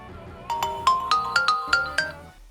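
A Huawei HarmonyOS ringtone plays a soft, bright melody of evenly spaced plucked notes, about eight chimes in a gentle rising and falling pattern, close and clear with no talking.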